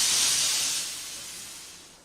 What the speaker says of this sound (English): Steam engines wheeze steam.